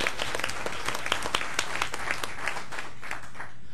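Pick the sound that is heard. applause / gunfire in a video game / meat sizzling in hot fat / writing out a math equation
applause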